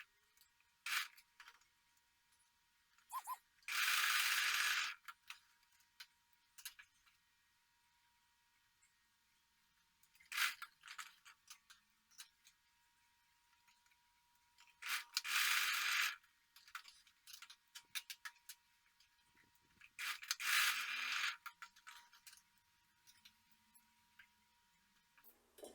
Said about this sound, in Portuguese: vamos lá para a máquina fazer todas essas costuras